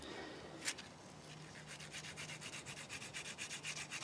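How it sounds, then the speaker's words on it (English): A sanding sponge rubs lightly over a 1/35 scale plastic Chieftain Mk10 tank model in quick, regular back-and-forth strokes, soft and close, with a small knock early on. "Just very delicately sanding."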